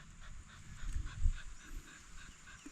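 A dog pants close by in quick rhythmic breaths, soft and steady, with no talking over it.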